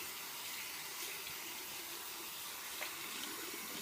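Tap water runs steadily into a sink as a face is rinsed during a night skincare routine, a soft continuous hiss with small splashes and no talking.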